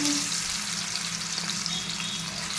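Marinated fish pieces fry in very hot oil, giving a steady, close, bubbling sizzle and crackle that holds evenly throughout with no talking.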